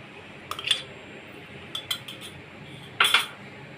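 A utensil stirs a mawa mixture with added coloured milk cream in a pan, giving three short bursts of metallic scraping and clinking, separated by quiet pauses, with no voices.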